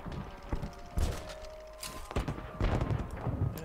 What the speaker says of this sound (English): how much fireworks did they get from there, from that place?